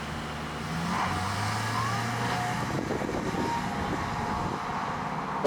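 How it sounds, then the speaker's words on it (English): A 2023 Lexus RX350h AWD hybrid drives along, giving a steady low engine and road hum with a rising tone partway through. A brief knock lands at the very end. "Jacob, let's take this thing for a drive."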